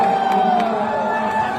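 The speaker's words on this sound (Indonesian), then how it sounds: "Disorakin sama penonton" Stadium spectators jeer and shout as a dense, continuous crowd roar, loud and steady throughout, with a few brief whoops rising above the mass of voices.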